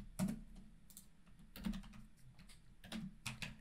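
Quiet computer keyboard typing while writing C# code, a few scattered key clicks and taps in short irregular clusters, close but faint with no talking.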